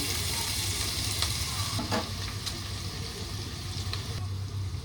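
Ginger garlic paste frying in hot oil at home, a steady loud sizzle with occasional stirring scrapes and spatters, no voices.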